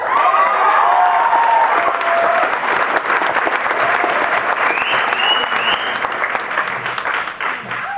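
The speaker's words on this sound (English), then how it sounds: "so make some noise for Tim Fittick" A crowd applauds loudly and steadily with scattered cheers and whoops, the clapping thinning slightly toward the end.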